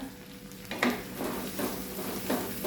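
A spoon stirs a salted pickle mixture of ginger, garlic and fenugreek over a low flame, giving a few scraping strokes over a soft steady sizzle in a quiet kitchen; the title names it as a star-fruit (chambakka) pickle.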